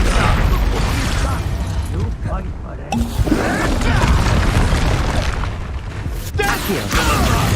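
Spell blasts in Hogwarts Legacy, the Expulso explosion spell fired in hard-mode combat: loud booming bursts and crashing impacts fill the whole stretch over dense game effects, with voices talking throughout.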